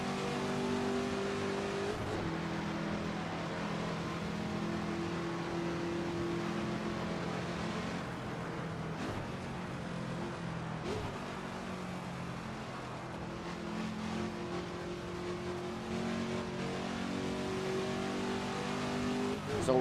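Race car engine in the Assetto Corsa sim during hot laps on the classic Monza layout with the old Parabolica, a continuous droning engine note rising and falling with gear shifts and revving, steady throughout without pause.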